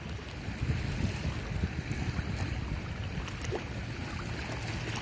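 Lake waves lapping at the lakefront, a continuous close wash of water mixed with wind buffeting on the microphone, steady in loudness and with no talking.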